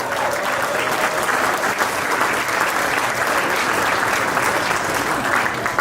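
Sustained applause from a wedding reception audience for a performer named Jeff Arena, steady and dense across the whole stretch with no talk over it.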